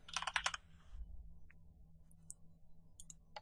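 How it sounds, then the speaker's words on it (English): Typing on a computer keyboard: a quick burst of dense keystrokes at the start, then sparse, faint key clicks scattered over a low background hum. "here I will type archive"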